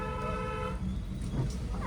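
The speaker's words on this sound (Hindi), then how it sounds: "अब देखो मैंने हॉर्न दिया, ये देखो" A car horn pressed by the driver during a beginner driving lesson, giving a steady, loud toot for under a second over low engine rumble.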